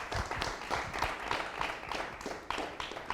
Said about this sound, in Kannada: ಒಂದು ದೊಡ್ಡ ಚಪ್ಪಾಳೆ ನಮ್ಮ ಮ್ಯೂಸಿಷಿಯನ್ಸಿಗೆ ಬರಬೇಕು.